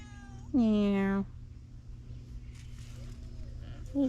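A cat named Smokey gives one loud, drawn-out meow close by, followed by a quiet stretch and the faint start of another call at the very end.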